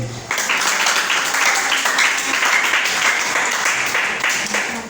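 A church congregation cheers and claps for Jesus at a prophet's sermon, a sudden swell of dense applause and shouting that holds steady for several seconds before easing off slightly.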